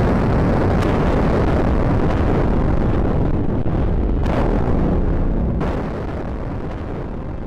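Massive mine detonation of 18,000 kilograms of explosives in a tunnel under Hawthorne Ridge Redoubt, a sustained loud roaring blast rumble that slowly fades, heard alone.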